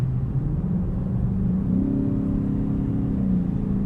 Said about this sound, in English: listen to this quickly, I'll drop a gear or two.